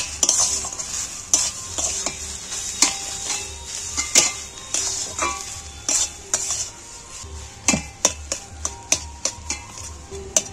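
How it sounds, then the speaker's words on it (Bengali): Paneer stirred and fried in a pan for a vegetarian omelette curry: a steady sizzle runs throughout under repeated sharp scrapes and clacks of a spatula against the pan, growing quicker and denser toward the end, with no talking. "এইবার আমি পনিরটা দিয়ে ভালো করে নাড়াচাড়া করে নেব, একটু ফের নেড়ে ভালো করে কষিয়ে নেব।"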